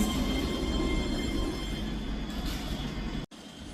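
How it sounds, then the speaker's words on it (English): A three-carriage Scotrail class 385 train, unit 385102, running into Edinburgh Haymarket station with a loud, steady rumble that eases slightly before breaking off abruptly. "Arriving in now is the 12:09 Scotrail service from Edinburgh Waverley to Dunblane,"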